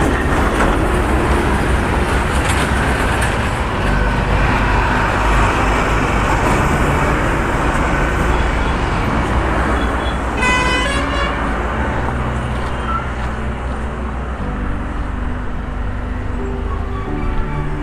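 A red MSRTC state transport bus approaches on the winding Kashedi ghat stretch of the NH66 highway near Poladpur. It makes a steady, loud road roar throughout, with a short horn toot near the middle and no talking.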